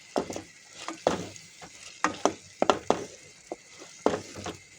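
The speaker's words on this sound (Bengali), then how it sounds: "মাছটা ভালো করে নেড়ে দেবো, মশলাটা ভালো করে যাওয়ার জন্য, ঢোকার জন্য।" Ghora fish pieces are stirred through spice masala in a pan, with repeated sharp scrapes and clacks of the spatula over a faint sizzle, coming in irregular bursts.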